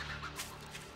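A chicken in 7 Days To Die gives a short, quiet cluck or two over faint background game ambience.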